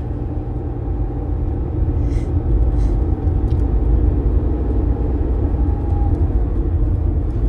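An AMT car climbs a ghat road in third gear, giving a steady, loud low engine rumble and road noise throughout with no talking.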